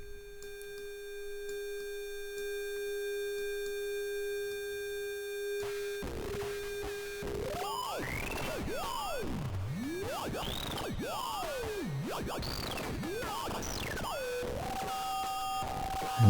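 Sine wave in a VCV Rack bitcrusher synth patch: a steady pure tone with harmonics for several seconds, then modulation sends the pitch sweeping and warbling up and down in crazy glides, loud and continuous with no voices.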